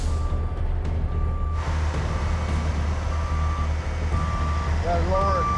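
A truck reverses at a heavy rescue scene with a steady, repeating backup beeper sounding over a constant low engine rumble, with scattered voices and a brief air brake hiss.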